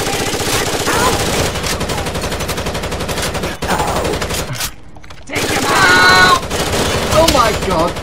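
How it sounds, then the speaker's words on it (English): Rapid automatic gunfire from the shooter game Rainbow Six Vegas 2 fills the clip, dense bursts crackling almost continuously with a brief lull near the middle, while players talk over it. "Ow, I'm getting shot."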